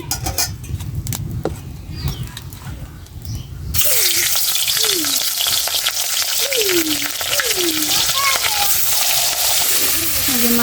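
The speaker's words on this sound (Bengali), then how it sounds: "এই যে আমার তেলটা গরম হয়ে গেছে কারণ মাছটি দিয়ে দেবো" Loud, steady sizzling of fish frying in hot oil starts abruptly a few seconds in and continues, with a voice speaking over it.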